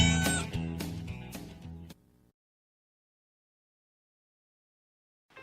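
A cat meows a few times in quick succession within a radio advertisement, loud and close, followed by silence and a brief sound starting at the very end.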